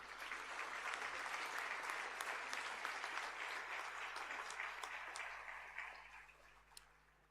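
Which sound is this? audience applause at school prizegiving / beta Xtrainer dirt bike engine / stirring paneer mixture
audience applause at school prizegiving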